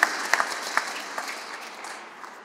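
An audience at a museum inauguration applauds, with a few sharp claps at first that thin out into a brief, fading patter of scattered clapping.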